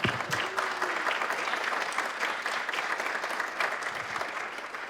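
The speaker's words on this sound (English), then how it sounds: "Everyone give it up for Leader Long again" Sustained audience applause fills a Zero Waste Fest conference welcome session, a dense, continuous clapping from a sizable crowd at a steady level throughout.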